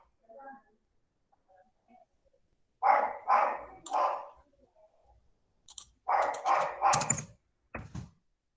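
A dog barks outside in two short clusters of three or four barks each, moderately loud and somewhat distant, with quiet gaps between the bursts.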